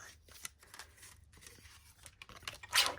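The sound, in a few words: paper being cut in half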